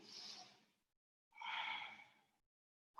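Slow, audible breaths during yoga practice, two long airy exhales separated by silence, close and soft, with the start of a third at the end.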